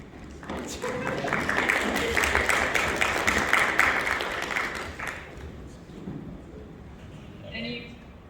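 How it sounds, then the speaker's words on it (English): An audience at an engineering talk bursts into applause, a dense wash of clapping that builds quickly, holds strong for several seconds, then tapers off as a voice begins speaking near the end. "Round of applause."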